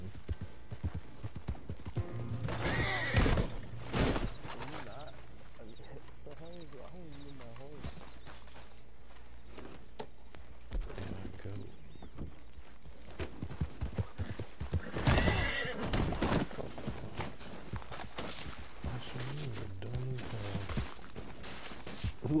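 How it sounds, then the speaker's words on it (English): A horse in Red Dead Redemption 2 Online clip-clops and whinnies loudly several times, its hooves beating in uneven bursts amid game mechanisms, while a player talks excitedly over it. "Look at my horse right now."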